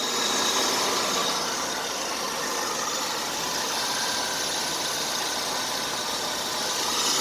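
A 1986 Buick Skyhawk T-Type engine idling, a steady, smooth, even hum heard up close with no voices over it.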